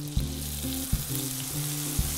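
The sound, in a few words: lemon juice added to browning lemons and butter in pan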